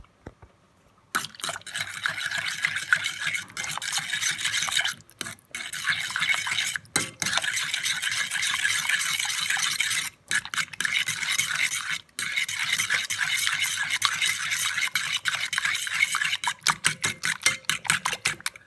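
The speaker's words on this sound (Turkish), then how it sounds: "iyice sıvı karışımımızı karıştırıyoruz" A liquid banana bread mixture of mashed banana, milk, melted butter and eggs is stirred in a bowl, giving continuous close wet swishing and clinking with a few brief pauses.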